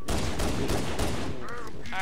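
Pistol gunfire aimed at Hunters in the video game Halo: Combat Evolved, a dense, loud barrage of shots over other game noise, with a brief voice-like tone near the end.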